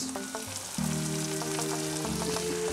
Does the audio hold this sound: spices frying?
yes